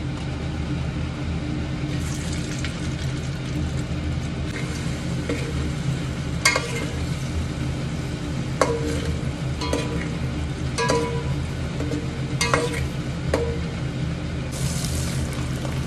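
Eggs fry in a pan with a steady sizzle, and a spoon stirs and scrapes against the metal in several short clinks and scrapes over a constant low hum.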